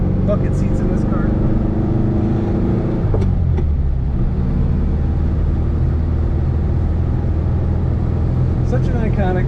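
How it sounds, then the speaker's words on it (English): A 1968 Volkswagen Beetle drives along the road, its steady engine drone and road rumble loud and continuous throughout, with a brief passing whoosh midway and no talk. "Goes down the road without much wind noise."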